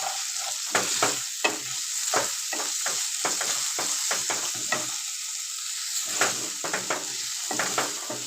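Paneer stir-frying in a pan, an even background sizzle punctuated by frequent rhythmic scrapes and taps of the spatula, close and moderately loud.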